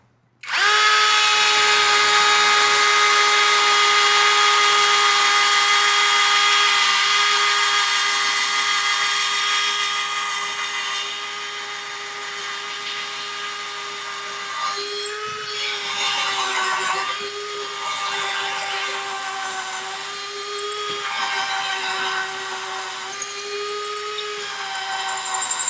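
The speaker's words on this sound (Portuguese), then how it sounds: "Conseguiu perfurar de uma única vez sem escapar a broca na velocidade" A cordless drill running at speed 1 in non-impact mode drills through material with a loud, steady high whine that eases slightly, then wavers and stutters as the bit works through.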